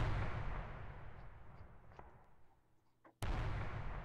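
Gunshot in the horror video game Hotel Remorse: a deep boom that decays slowly into faint rattles, followed by another sudden loud blast near the end.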